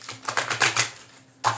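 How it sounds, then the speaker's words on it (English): Tarot cards being shuffled close up in a quick run of about half a dozen crisp riffling taps, then a short pause and one more sharp flick. "I'm going to shuffle them one more time."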